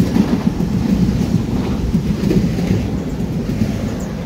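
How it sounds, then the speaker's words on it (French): A TGV Lyria high-speed train rumbles past at a French station platform, a steady low roar with faint rhythmic clatter lasting the whole stretch, loud and close. "on arrête un TGV Lyria"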